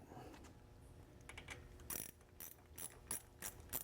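A ratchet socket wrench with a 1/2 inch socket tightening the mounting bolts of an MGW MT-82 compact race-spec shifter, close rapid clicking bursts repeating in short strokes, quiet and alone.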